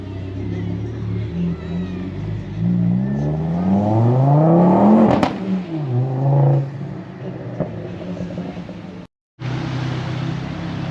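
A highly modified left-hand drive Ford Focus ST revs as it crawls over a speed hump, its engine note rising and falling in a few strained pulls, close and loud, followed by a steadier idle.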